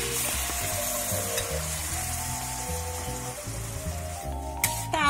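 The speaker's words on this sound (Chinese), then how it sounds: "大火快炒" Egg stir-fried over high heat in a hot wok after sauce is added, sizzling loudly and steadily with a clatter of tossing near the end.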